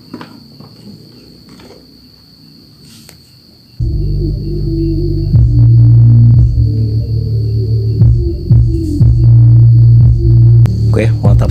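Deep, heavy bass music thumps through a subwoofer, starting suddenly after a quieter stretch and staying loud, with booming low notes pulsing steadily.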